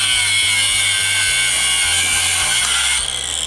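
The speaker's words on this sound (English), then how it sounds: "I'm just gonna cut the stock clamps off and hopefully it comes out easily" Power tool cutting off stock exhaust clamps on a Dodge Challenger R/T, a steady, loud rhythmic buzzing chatter close up that changes pitch slightly near the end, with no talking.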